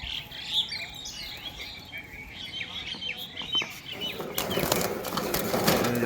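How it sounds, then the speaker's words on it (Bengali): Punjabi Malwahi pigeons, including Kalanka pigeons kept loose rather than caged, flutter and call close by in a loft, with chirps and flapping wings that grow busier toward the end. "এই যে পায়রা, বিশাল চটপটে পায়রা"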